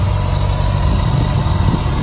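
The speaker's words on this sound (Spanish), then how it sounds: "Ya veis que el escape es bastante silencioso." A customized Kawasaki ZX6R motorcycle idling nearby, a low, steady engine rumble with a fairly quiet exhaust and no talk.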